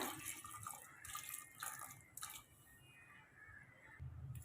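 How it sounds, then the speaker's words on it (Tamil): Water runs and splashes steadily into a pressure cooker pot holding lentils, with faint clinks, at moderate volume and close by. "பருப்பு முங்குற அளவுக்கு தண்ணி சேர்த்துக்குங்க"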